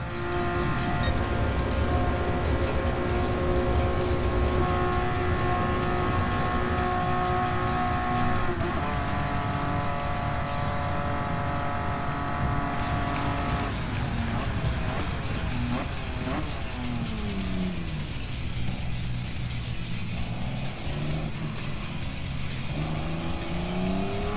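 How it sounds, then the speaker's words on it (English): A loud BMW V12 car engine in the racing video game Gran Turismo Sport roars steadily, revving up and down through gear changes for the whole stretch, with no talking. "I will let you guys hear this awesome BMW V12 engine."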